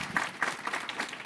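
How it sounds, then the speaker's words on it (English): Audience clapping at a policy conference session on AI, brief uneven applause of moderate loudness with scattered individual claps standing out. "We'll give you a big round of applause."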